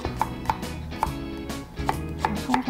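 A knife slices onion, green onion and garlic on a cutting board. It gives crisp, close chops in an uneven rhythm, with a few quick cuts and short pauses between them.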